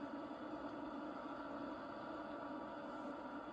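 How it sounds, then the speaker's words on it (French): A tractor engine labours hard while hauling trailers, giving a steady, loud, unbroken drone with a constant mechanical hum and no voices. "Mon tracteur peine. Il peine."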